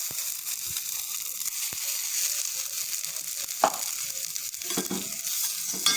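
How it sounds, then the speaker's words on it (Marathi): Tempering sizzling over ground chutney in a pan after the gas is switched off, giving a steady bright hiss with a few scattered clicks and clatters, close and without any talk. "हे मस्त अशी तडका आपल्या चटणीला झालेला आहे"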